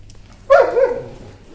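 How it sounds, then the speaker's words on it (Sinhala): A dog gives a single sharp bark that trails into a short yelping whine, close by and loud against a quiet background with a low steady hum. "මේ ඉන්නේ මාත් එක්ක ඉන්න බල්ලෝ."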